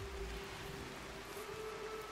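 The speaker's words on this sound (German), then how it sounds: "Es regnet." Steady rain falling in the RimWorld colony-building game, a soft continuous hiss with a faint low hum underneath, heard alone and fairly quiet.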